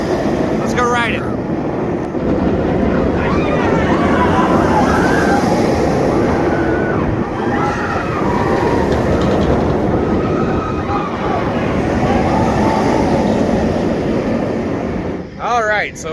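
B&M floorless roller coaster Dominator at Kings Dominion in 2022, a steady loud roar of the train rushing along the track with wind noise throughout, and a brief burst of riders' voices near the end.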